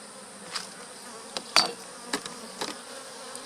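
Bees in an opened beehive during an inspection, a low steady insect hum with brief sharp knocks and scrapes of hive parts, close and fairly quiet.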